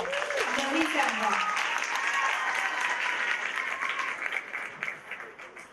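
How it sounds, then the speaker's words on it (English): An audience at a variety show applauds as a performer comes on stage, steady clapping that slowly fades, with voices heard briefly at the start. "Let's welcome her to the stage with a round of applause"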